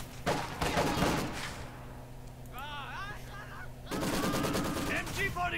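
Company of Heroes 2 battle with MG42 and Maxim machine guns: rapid, loud bursts of automatic fire open the scene and return after a short pause. Game voices speak over the gunfire in between.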